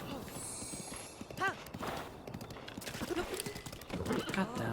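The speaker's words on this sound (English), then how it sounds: "This is why I hate horses that are not Epona." A horse in a Zelda game whinnies sharply several times over clopping hooves, the neighs rising and falling close up against a busy game soundscape.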